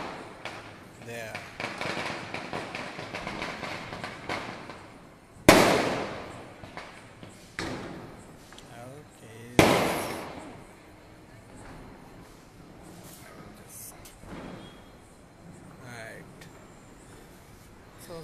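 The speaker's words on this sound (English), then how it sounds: "And some firecrackers are going on." Diwali firecrackers burst outdoors amid festive decorations, with three sharp loud bangs standing out over a busy background of crackling and distant pops, while a person talks intermittently throughout.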